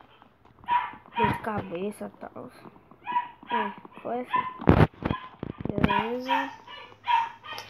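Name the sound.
dog barking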